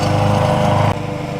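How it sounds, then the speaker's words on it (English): A lawn mower engine drones loudly and steadily close by, its buzzing pitch shifting slightly partway through, with no voices over it. "Lawn mowing."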